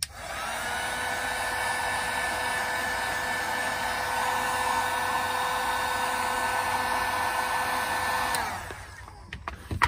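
A hair dryer blowing steadily on a toy turtle figure's head, a loud continuous close whir with a constant high whine for about eight seconds before it cuts off, followed by a few small clicks.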